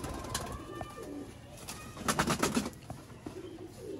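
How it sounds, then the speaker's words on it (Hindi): Sialkoti pigeons coo softly nearby, low throaty calls mixed with light rustling and a brief burst of fluttering in the middle. "नायाब कबूतर दोस्तों सियालकोटी"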